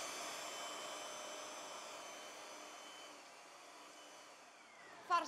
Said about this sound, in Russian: Пропускаем через мясорубки эти кусочки свежайшего мяса.